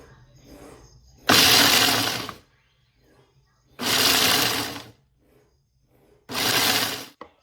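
Food processor grinding pecans to a fine powder, three loud roaring bursts of a second or so each, separated by short quiet pauses, close up with no talking.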